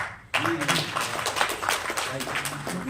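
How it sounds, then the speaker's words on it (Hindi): An audience at a Hindi poetry gathering in Udaipur breaks into applause after a brief quiet moment, a dense steady patter of many hands that carries on under a speaking voice. "एक बार सब तालियां"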